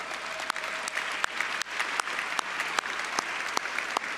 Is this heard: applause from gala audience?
yes